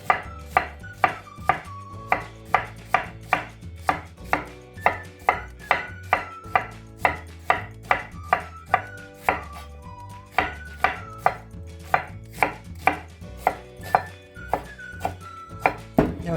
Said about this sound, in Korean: 그럼 썰어 볼게요.